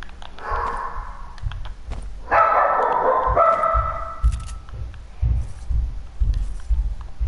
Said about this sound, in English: Yeah, it's my dogs.